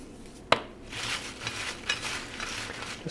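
Salted homemade french fries tossed in a bowl, with a sharp knock as they are first shaken, then a steady soft rustling and scraping of fries against the bowl.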